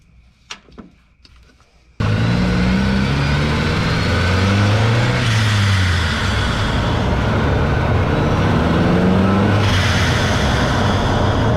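A car fitted with an HKS blow-off valve insert is driven hard, its engine loud and continuous with rising and falling revs through gear changes, preceded by a brief quiet start.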